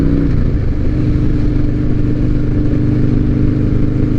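A 2007 Harley-Davidson Night Train idles steadily, its engine giving a loud, close, deep rumble that holds even throughout with no voices.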